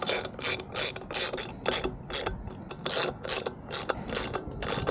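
Ratchet wrench tightening the disc brake bolts on an electric bike hub motor, a close, steady run of quick clicking bursts repeated in short strokes one after another.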